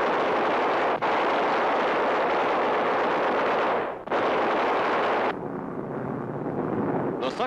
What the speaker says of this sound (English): bombs are on their mark, and the freighter is crippled by the explosion